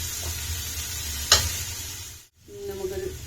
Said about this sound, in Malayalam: കടുക് പൊട്ടിയതിന് കൂടെ സവാളായിട്ട് നല്ലപോലെ വഴറ്റിയെടുക്കാം.